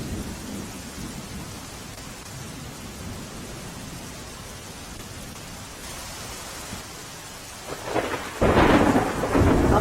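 Heavy rain pours steadily over Ahmedabad as a dense, continuous hiss, with a low roll of thunder building and swelling loudly near the end.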